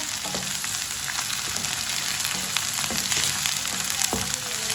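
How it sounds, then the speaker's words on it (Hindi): Okra (bhindi) crackles and sizzles in a pan with steady, close frying hiss and scattered small pops, a few soft stirring knocks throughout. "भिंडी हमारी थोड़ी सी पक चुकी है, फ्राई हो चुकी है"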